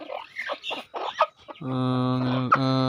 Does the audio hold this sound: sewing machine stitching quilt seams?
no